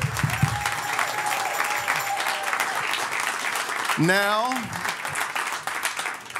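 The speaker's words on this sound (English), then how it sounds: "Clap your hands." Congregation clapping hands during a worship gathering, a steady broadband patter filling the room, with a voice speaking and a rising sung or called vocal line cutting through midway.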